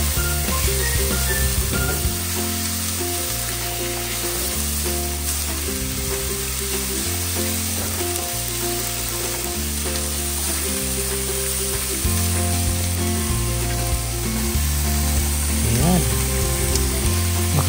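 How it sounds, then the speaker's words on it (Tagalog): Pork belly, taro leaves and coconut milk are stirred in a pan, with a continuous loud sizzle and frying hiss throughout. Soft scraping stir sounds recur alongside steady, repetitive background music. "Mix it well."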